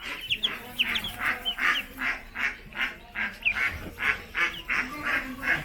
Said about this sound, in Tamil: இப்போ வந்து பார்த்தீங்கன்னா இங்கே பக்கத்துலேயே வாத்து இருக்குது